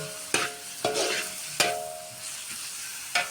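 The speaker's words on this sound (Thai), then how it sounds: "ผัดให้หมูเขาสุก สักนิดนึงนะ" Pork being stir-fried for spaghetti sizzles in a pan, with a few sharp spatula scrapes and knocks at irregular intervals over a steady frying hiss.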